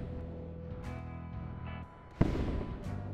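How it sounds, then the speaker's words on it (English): An enemy ship explodes in the space game Wayward Terran Frontier: one sudden sharp blast cuts through a steady engine hum, then rough rumbling debris noise carries on afterward. "Now he's blown up"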